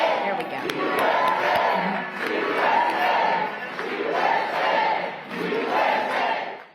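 Protesters shout and chant in loud waves at a congressional town hall meeting in Georgia, the crowd noise swelling and dipping in roughly regular surges, dense and close throughout.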